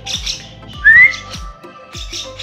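A person gives a short rising whistle to call a lovebird, with faint chirps and rustling around it, close by.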